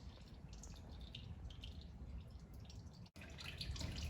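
Motor oil drips steadily from the drain of a 2011 Toyota Corolla during an oil change, a close, continuous patter of drops under a low background hum.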